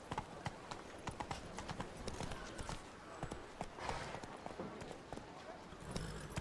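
Horse hooves clip-clopping in Witcher 3: Blood and Wine, a quick, even gallop rhythm that keeps going throughout while someone talks over it.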